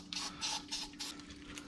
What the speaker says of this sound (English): I'll even get some spray onto that.